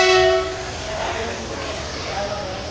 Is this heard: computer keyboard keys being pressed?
no